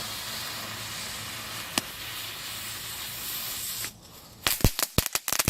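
A homemade musket loaded with cheap fireworks fires outdoors: a long hissing fuse burn, then a brief hush followed by a rapid cluster of sharp, loud cracks and pops close by.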